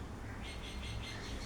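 Birds squawk and call around a house: a continuous faint wash of overlapping squawks and chirps at a distance, with no voices.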